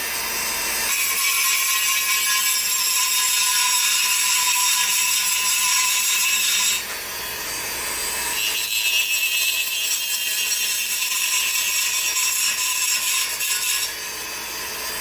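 Welds on go-kart exhaust pipes being cleaned up with a power tool, a continuous high grinding whine that stops briefly and resumes twice, close and loud.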